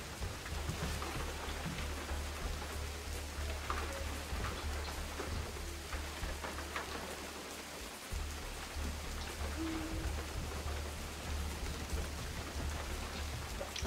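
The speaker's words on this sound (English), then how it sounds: "I hope it stops raining" Steady rain falls in the Bigfoot video game, a soft even hiss of drops with a low continuous rumble underneath, faint and unbroken.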